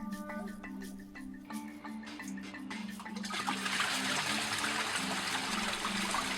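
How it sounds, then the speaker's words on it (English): Water gushes from an opened valve into koi pond filter barrels, starting as a light trickle and swelling into a loud, steady rush partway through, with a low hum running underneath. "Time to refill the barrels now with water."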